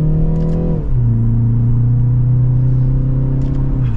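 A 2023 BMW 330i M Sport sedan accelerating from second gear, its engine note climbing steadily, dipping briefly at a smooth upshift near one second, then rising again with a strong continuous drone close by and no talking.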